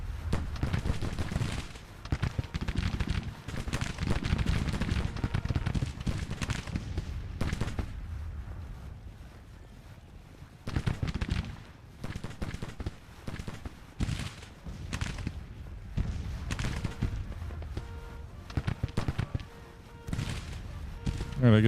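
Musket volleys crackle through a Civil War strategy game battle, dense rolling gunfire and booming shots repeating continuously over the full stretch, loud and layered, with a voice talking intermittently underneath.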